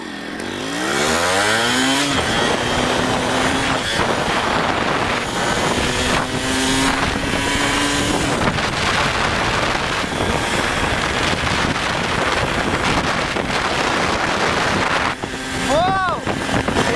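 A Yamaha RX100 motorcycle engine revs up and runs steadily while riding, with rising and falling pitch sweeps as the throttle changes, heavy wind noise across the microphone throughout, and a brief dip near the end.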